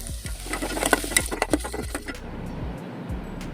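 Mango peel being sautéed in a pan for a traditional thuvaiyal: a spoon or spatula stirs and scrapes in quick repeated strokes over a soft, steady sizzle, close and moderately loud, with no talking.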